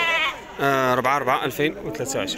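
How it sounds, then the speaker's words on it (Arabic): Sheep at the Tuesday livestock market in Azrou, Morocco, give loud, wavering bleats over steady talk and crowd chatter. "رجع له خروف سمين تبارك الله"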